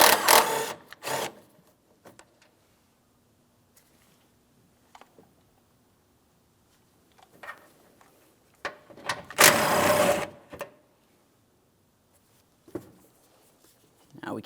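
Ratchet or power tool loosening 10 mm mounting bolts on a 2007-2014 GMC Sierra 2500 HD, two loud bursts of rapid whirring, one at the start and a longer one midway, separated by quiet clinks and handling noises.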